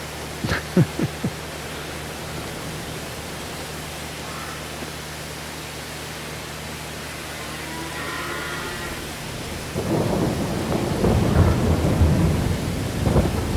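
Steady rain hiss with rumbling thunder in Farming Simulator 22, a few sharp knocks near the start, then the downpour swells louder and rougher in the final seconds.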